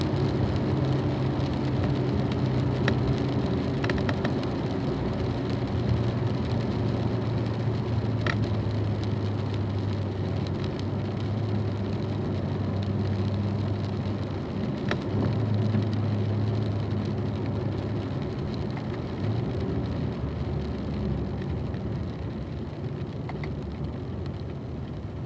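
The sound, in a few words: car driving on a race course in the rain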